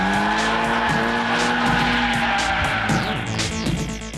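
Four-wheel drive EVO race cars on a mountain pass touge, a loud close engine note holding steady with tires squealing and skidding through a corner, revs shifting toward the end.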